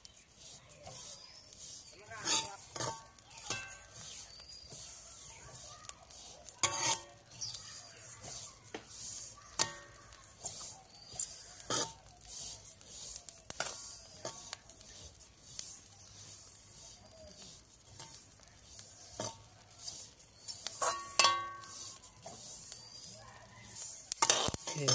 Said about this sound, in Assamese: এতিয়া তিলটো অলপ ফুটিবলৈ ধৰিছে